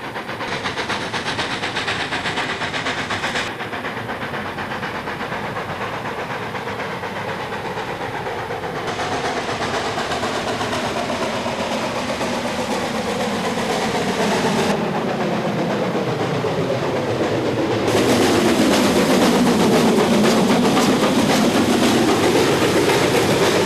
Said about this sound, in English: WD 210 Dame Vera Lynn is on the grade between Darnholm and Thomas and Foss